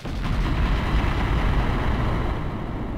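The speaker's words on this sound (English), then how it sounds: "Now this building is considered destroyed now, because I set up all these big explosions right next to it." Big explosions go off next to a building in Hidden & Dangerous Deluxe, heard as a sustained, loud, booming roar of blasts and rumble with no talk.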